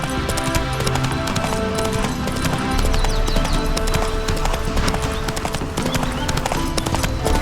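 Horse hooves clip-clop steadily in The Witcher 3, Geralt's horse Roach moving at a walk, the even footfalls sitting under a dense layer of game music and ambience with an occasional whinny.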